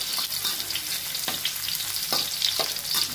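Garlic and ginger fry in a pan with a continuous bright sizzle and crackle, broken by occasional stirring scrapes, with no voices.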